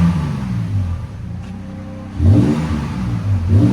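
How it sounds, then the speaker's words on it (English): A 2013 Toyota Tacoma 4.0L V6 with an 18-inch Magnaflow exhaust revs close by, a deep, clean engine tone swelling up partway through and surging again at the end, with no talking. "You want not a lot of sound, just clean, deep tone with more performance?"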